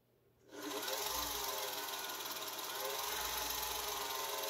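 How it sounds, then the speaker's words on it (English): A Singer 431G sewing machine winds a bobbin while its hand wheel spins. After a quiet moment, a steady, even motor whir starts up and holds at a constant speed, close and without talk. "Your hand wheel will spin and wind the bobbin, but the rest of the machine won't cycle."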